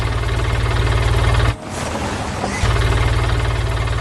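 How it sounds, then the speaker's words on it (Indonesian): A yellow forklift engine in an animated farm scene idles with a steady, loud mechanical rumble that drops out briefly mid-way before resuming. "Lihat, sebuah forklift kuning mulai beraksi keluar dari lumbung."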